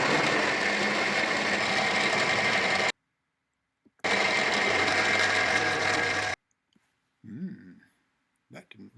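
A lathe runs with its tool holder not clamped down, giving a harsh rattling, grinding mechanical clatter in two loud bursts separated by silence, followed by quiet voices.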